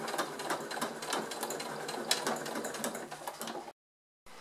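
A sewing machine stitches a seam close to the edge of fabric piping, running in a steady, loud mechanical chatter for several seconds before stopping abruptly, then a faint resumption after a brief silence.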